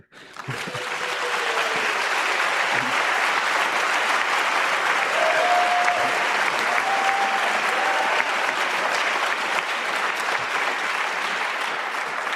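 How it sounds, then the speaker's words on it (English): A graduation ceremony audience for a master's degree in data science breaks into applause that starts abruptly and holds steady and full. A few short whistle-like tones rise above the clapping. "please give everybody a round of applause"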